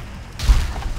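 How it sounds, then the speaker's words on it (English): A short, loud explosion in Battlefield 2 with a deep low boom and a burst of noise, fading quickly in a game mix. "Explosions to the face!"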